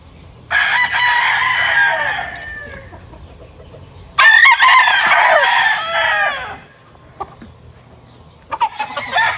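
A Hatch gamefowl rooster crows loudly at close range, two long, full crows separated by a pause, with a third starting at the end and quiet clucks in between.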